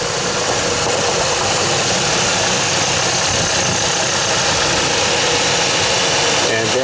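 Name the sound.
Chevy Colorado truck engine starting with replaced belt tensioner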